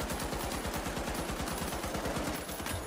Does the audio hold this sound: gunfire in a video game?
yes